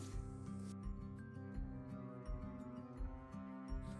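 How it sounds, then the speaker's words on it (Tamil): Small pieces of dry ginger are crushed into powder, making close, continuous rough rubbing and grinding strokes with short rhythmic pulses, alone without talk. "இப்போ இந்த சைஸ் ஒரு சின்ன சைஸு சுக்கை வந்து எடுத்து பொடி பண்ணி வச்சுக்கலாம்"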